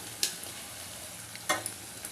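Onion and garlic sauté in a pan for a Tirunelveli-style red cowpea and brinjal tamarind kuzhambu, giving a soft, steady sizzle with two sharper stirring scrapes, fairly quiet and with no voices.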